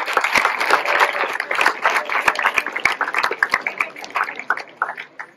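A school audience at a college slam poetry tournament in Malestroit claps for the teachers, the applause fairly close and uneven, thinning into scattered separate claps toward the end.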